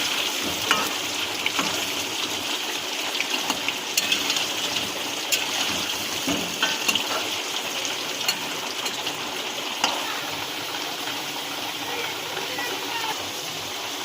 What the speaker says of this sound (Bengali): হালকা লাল লাল করে ভেজে নেবো আমরা